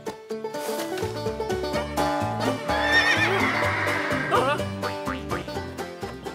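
Cartoon horses neigh and whinny over dense, busy musical backing, with several sharp whinnies standing out through the middle of the passage and no talking.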